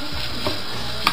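Carrots and zucchini cooking in a pan with speck, a soft steady sizzle with the scrape of stirring and a light clink of utensil near the end.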